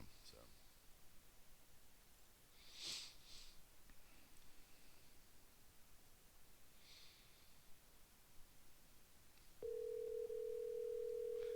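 A telephone dial tone comes in abruptly near the end as a call back is placed, a steady loud hum after quiet room noise with faint breathing and rustling.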